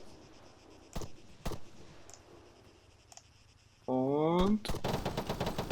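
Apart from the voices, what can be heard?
gunfire in video game ArmA 3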